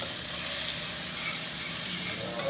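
Cubanela peppers and onion fry in a pan with a loud, dense sizzle and a constant close hiss from start to finish.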